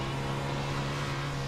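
Engine drone of a 360 non-wing sprint car in the iRacing sim, a steady loud tone held at near-constant pitch throughout, with no talk.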